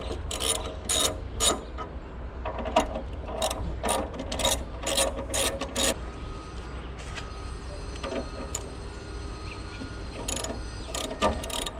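Ratchet wrench backing out 10 mm bolts from a 2016 Jeep Renegade Trailhawk heat shield: bursts of rapid clicking pawl ticks, repeated in short runs with pauses between, close up and with no talk.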